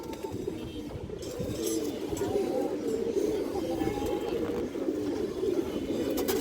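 Several pigeons coo continuously in a loft of high-flyer and pair-bred pigeons, a dense low warbling chorus with a faint bird call now and then, steady and close throughout.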